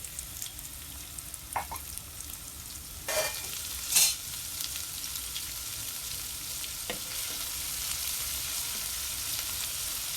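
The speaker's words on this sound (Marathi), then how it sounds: "अद्रक लसूण पेस्ट चांगली परतू द्यायची." Ginger garlic paste sautéing in hot oil in a pan for chicken bhaji, a steady close sizzle broken by a few sharp spoon scrapes and stirring bursts, without speech.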